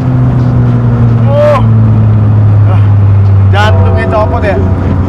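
An open-top Caterham race car with no roof or doors, driven fast, its engine droning loudly and continuously while voices talk excitedly over it.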